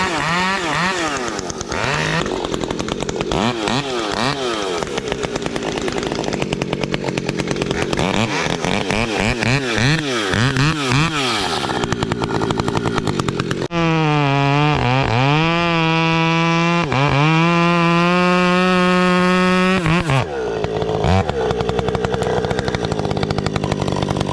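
A modified-exhaust Husqvarna chainsaw, a 572 or 562, roars loud and close while cutting a fallen giant tree in the woods, the engine pitch rising and falling with each cut and screaming at steady high revs in the middle.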